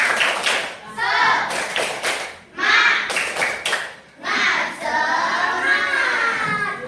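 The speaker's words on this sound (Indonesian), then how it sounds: "Coba. Tepuk semangat." Rhythmic hand clapping in quick bursts in a classroom, several claps per group with short pauses, sounding close and bright, with children's voices mixed in.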